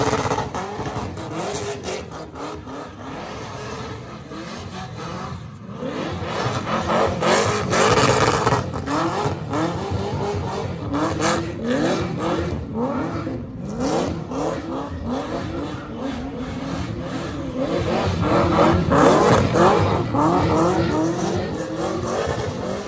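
A car revs hard and skids around a pub car park, its engine roaring and rising and falling with tire squeal, loud and continuous for over twenty seconds.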